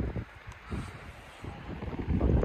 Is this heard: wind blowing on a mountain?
yes